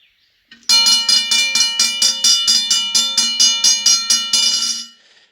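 A Safetran Model 040201 hybrid electronic railroad crossing bell rings loud and close in a fast, steady series of about twenty metallic strikes, stopping abruptly after a few seconds.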